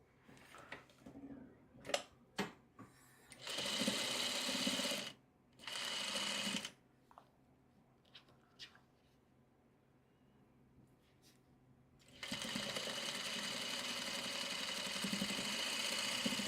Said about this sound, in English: Then I can sew this row.